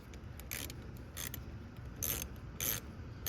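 A 10mm open-ended wrench loosens the positive battery terminal on a 1996–2002 Toyota 4Runner, giving several short metallic ratcheting scrapes at irregular intervals over quiet background noise.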